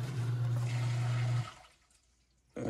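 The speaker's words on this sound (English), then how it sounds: "Sump pump saying hi." A basement sump pump runs with a steady low motor hum and a watery rush, then cuts off into near quiet before a short burst of sound returns.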